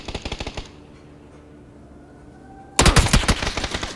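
Rapid automatic gunfire in the PC shooter PUBG: a short burst of loud shots, a brief lull, then a longer, louder burst of fire in quick succession.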